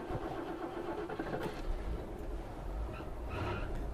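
A 1969 Lincoln Continental engine cranking and catching, then running with a loose drive belt squealing, close and steady over four seconds with no talk.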